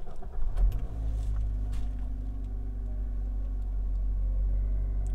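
A Maruti Baleno's petrol engine turns over and settles into a steady low idle inside an enclosed space, a brief louder burst at the start giving way to a constant humming rumble.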